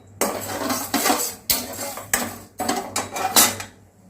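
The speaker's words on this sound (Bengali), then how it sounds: "হাই ফ্লেমে আমি এটাকে নাড়িয়ে একটা সিরাপ তৈরি করে নেবো।" Sugar and water syrup is stirred on high flame in a kadai, heard as a series of close, uneven metal scrapes and knocks of a spoon against the pan, with short pauses between strokes and no voices.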